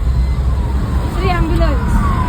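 An ambulance siren wails in slow rising and falling sweeps through heavy traffic on Ghodbandar Road in Thane, heard midway over a constant road rumble, with people talking nearby.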